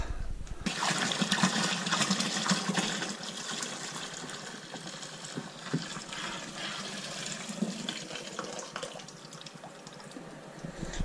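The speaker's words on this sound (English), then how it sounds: "Gotta let it drain as much as you can before going onto my giant colander that I've got." Homebrew wort for a DIY Dog #51 Black Tokyo Horizon batch drains through a giant colander, a steady broadband pouring and splashing rush that continues at even loudness throughout.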